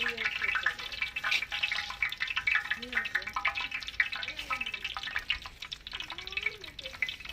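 Cashew nuts crackling as they fry in hot oil for chicken dum biryani, a steady fizzing sizzle with light stirring and occasional drips throughout, with a voice speaking over it.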